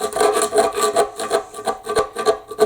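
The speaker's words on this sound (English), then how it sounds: "we want to try and get as much as that old gasket material out, and the paint scraper actually does a pretty good job" A paint scraper scrapes old gasket material off a wood stove door in quick repeated rasping strokes, close and fairly loud, with no talking.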